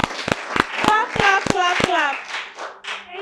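Students in a classroom clap in unison for two classmates, a rhythm of about seven evenly spaced sharp claps, with a voice talking over them throughout.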